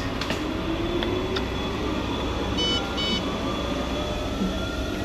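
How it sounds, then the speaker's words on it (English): A few short electronic beeps from a machine sound over a steady low rumble of background noise. "Yeah, it's going beep beep."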